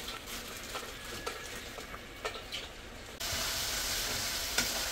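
Food frying in a pan, a steady hissing sizzle with faint stirring scrapes, growing louder and denser midway through as more heat or oil takes hold.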